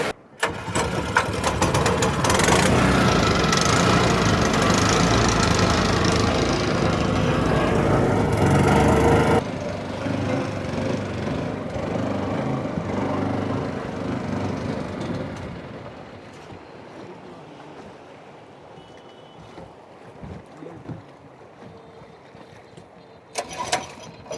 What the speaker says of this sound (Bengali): আমাদের বোটটা ইঞ্জিন বন্ধ হয়ে যাইতেছে, মানে চালু হইতেছে না আর কি